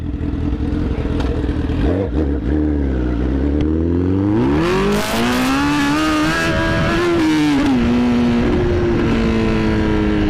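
Honda CBR 1000RR motorcycle with its exhaust removed, revving hard: a loud, raw engine note that dips, then climbs in rising sweeps and holds high, close to the listener, with no talking.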